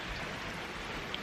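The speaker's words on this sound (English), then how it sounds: "I think that this spring rain is basically the best way to end a pretty glorious day" Spring rain falls in the evening, a soft, even hiss of steady drops with no distinct splashes, faint and continuous for its whole short length, with no voices.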